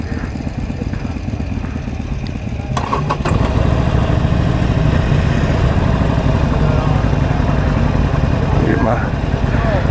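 A Harley-Davidson Sportster 48 motorcycle engine rumbles loud and close during a ride at the Bikes Blues and BBQ rally in 2014, its low idle swelling into a steady, heavy drone after a few seconds.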